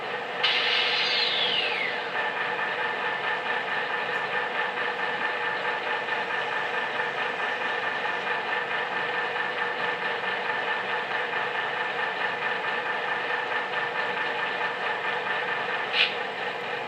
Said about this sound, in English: Four is the air compressor, I believe.